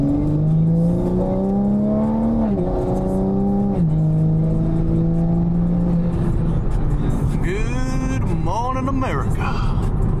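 Tuned Toyota Supra engine droning inside the cabin on the road in poor weather, its pitch rising and falling through gear changes with steady road noise and a person talking over it.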